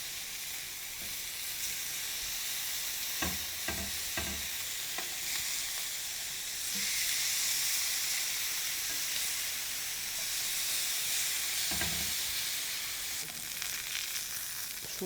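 Beef ribs fry steadily in a pan as their fat melts, a continuous close sizzle with a few soft scraping knocks and louder stirring bursts.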